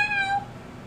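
A pet cat gives a single short, clear meow close by, its tone rising and then dropping off quickly, with no other sound around it.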